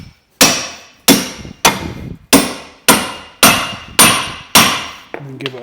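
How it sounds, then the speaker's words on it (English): Eight sharp metallic hammer blows strike a Draper ball joint splitter wedged between the lower arm and hub of a Vauxhall Meriva A VXR, evenly spaced and close, each ringing briefly before the next. "Put it between the bottom arm and the hub. Tap it gently to get it going."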